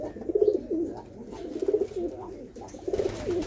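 Pigeons coo in soft, low, rolling bursts, three phrases spaced about a second apart, close by with no talking.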